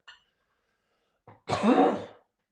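A brief throat noise, a short pause, then a harsh throat clearing rolling into a raspy cough, close and alone.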